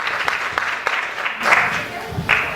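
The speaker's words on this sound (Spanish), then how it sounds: "darle un voto de aplauso" Brief applause from a seminar audience welcoming a speaker to a talk on Aymara community knowledge, scattered claps and crowd noise with voices murmuring through it.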